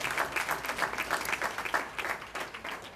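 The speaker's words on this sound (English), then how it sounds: "our mayor, Raj J. Baraka, can we give him a round of applause and encourage him?" An awards ceremony crowd in Newark gives the mayor a round of applause, a fairly faint, steady patter of many hands clapping with a few louder swells and no voices over it.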